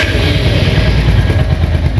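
Royal Enfield Hunter 350 motorcycle idling, a loud, close, steady thumping exhaust note with a low pulsing rumble and no talk.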